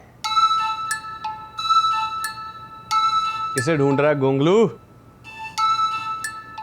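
A bright electronic ringtone melody plays in repeating phrases, interrupted midway by a person speaking over it.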